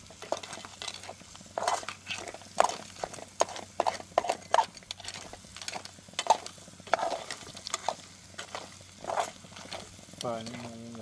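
Repeated scraping and clinking of a spoon stirring crab curry in a pan over a steady sizzle, close by, with a few short metallic knocks.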